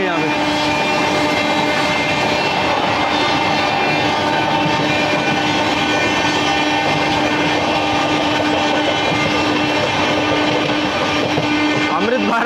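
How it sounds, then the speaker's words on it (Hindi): Amrit Bharat Express train running parallel to and overtaking the Howrah Rajdhani, heard from on board as a steady, loud rumble of wheels and carriage noise throughout, with a voice speaking over it. "Amrit Bharat express overtaking Howrah Rajdhani."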